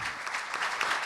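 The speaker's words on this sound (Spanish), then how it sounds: "le tenemos que dar también un gran aplauso a su memoria" An audience bursts into dense, steady applause at a gathering on the social economy and the future of work. Many hands clap together at even loudness throughout, with no talk over it.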